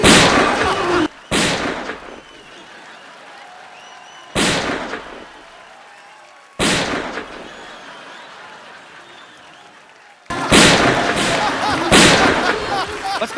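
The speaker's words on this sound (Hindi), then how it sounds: "बस करो भाई, 6 गोलियां 12 मार दी आपने।" Loud, sharp gunshot sound effects ring out in an irregular series on a TV comedy show, some spaced seconds apart and a few fired in quick succession near the end.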